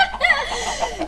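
Chickens cluck in a video game, a quick run of nasal, warbling clucks and squawks, fairly close and clear, alone and without talk.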